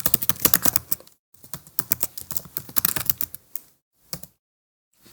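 Rapid clicking keystrokes on a computer keyboard come in close, steady bursts, with a short pause, then a few final taps.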